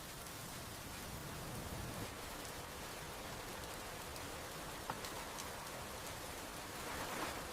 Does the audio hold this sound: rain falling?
yes